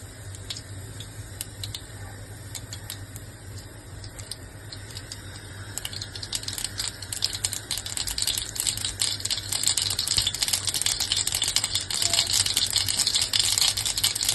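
Mustard seeds crackle and pop in hot oil in a kadhai on a gas stove. Close, rapid spattering starts light and grows denser and louder over a low burner hum.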